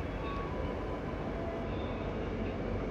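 Inside a crowded carriage of the KRL Jogja–Solo commuter train, a steady low rumble of running gear and rail noise fills the space, close and continuous.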